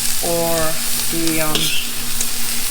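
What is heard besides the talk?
stir-frying chow mein noodles with meat and vegetables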